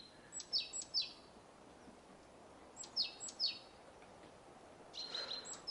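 Birds chirp outdoors on an evening in a garden in Kojori, Georgia, with short bright bursts of tweeting arriving in groups of two or three, fairly close and clear over a quiet background.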